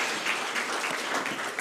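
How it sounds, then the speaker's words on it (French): Audience applause closing a debate on egalitarian communication, a steady dense wash of many hands clapping for under two seconds, fairly close and even, with no talk over it. "On vous applaudit encore."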